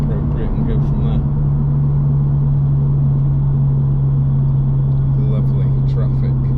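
Tuned Ford Fiesta ST with a Collins Stage 3 engine cruising on a road, giving a steady, loud low engine drone with a constant hum throughout and brief faint sounds on top.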